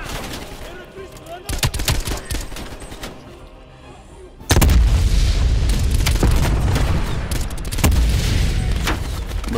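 Rifle fire in the video game Call of Duty Black Ops Cold War: scattered sharp shots at first, then heavy, continuous rapid gunfire with deep booms, while someone talks briefly.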